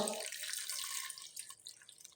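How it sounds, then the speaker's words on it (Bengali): Water poured onto tamarind with a pinch of turmeric, a short splashing pour that hisses brightly at first and then tapers into softer trickling and drips, close and quiet. "এখন আর দেব এখানে জল"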